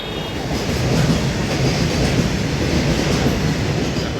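A Mumbai suburban train on the Kalwa–Vangani line rumbles loudly and continuously up close at a railway platform, a dense rolling roar with faint clatter of wheels and no talking.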